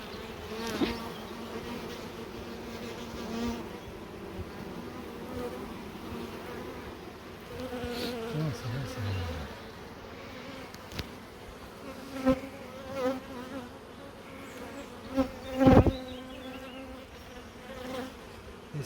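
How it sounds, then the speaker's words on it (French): A honeybee colony hums steadily around hive frames, a continuous close buzz that swells as individual bees pass near, with a few brief knocks and handling sounds. "Et ça, de mémoire, c'est un essaim que j'avais récupéré"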